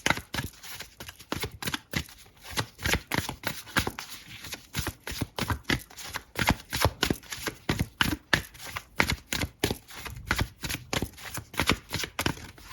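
Tarot cards shuffled by hand in a steady run of quick riffling flicks, close and fairly loud, continuing alone without talk throughout.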